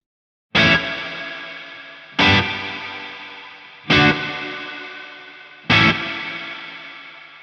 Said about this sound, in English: And modulate creates a very long reverb with modulation.